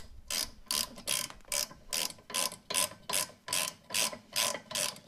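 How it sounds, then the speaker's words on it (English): A hand ratchet tightens a brake caliper bracket bolt on a Chevy Sonic, with about a dozen crisp, evenly spaced clicking strokes in a steady back-and-forth rhythm, close and fairly quiet with no talk. "I'm going to tighten down the bracket caliper bolt"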